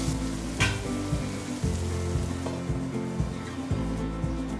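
Potatoes cook in a pan for sabudana khichadi, giving a soft, even sizzle with occasional stirring knocks over a low steady hum and no speech.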